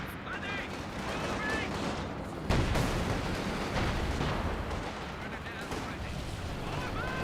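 Tank firing in a video game, with a sharp heavy blast about two and a half seconds in over a continuous rumble of battle and scattered shots, while voices talk over it.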